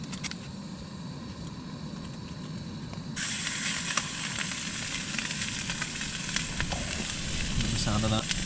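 Steak sizzling in a pan on a wild camping stove in the Peak District in strong wind, a continuous hiss that grows louder partway through over a rumbling wind background.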